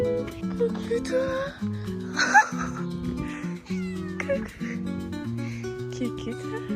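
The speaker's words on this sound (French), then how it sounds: "J'ai appelé un chat." A cat meows briefly in Portugal, a short close cry partly masked by a person talking and by steady tonal background music.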